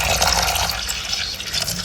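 Water is poured from close by into a tarantula's small water dish, giving a short continuous trickling splash with no speech.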